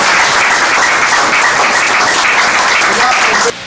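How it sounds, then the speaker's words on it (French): An audience at a political gathering gives steady, dense applause that fills the space evenly for several seconds and then cuts off abruptly. "j'appelle l'honorable professeur André Bata, que je vous demande aussi d'applaudir aussi"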